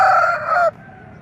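A rooster crows loudly and close by at a poultry market, one strained, drawn-out call that cuts off abruptly.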